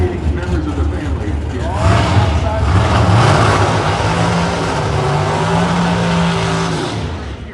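An NHRA extreme pro stock drag race car runs with a loud, sustained engine roar that swells and holds steady at close range. Voices can be heard underneath.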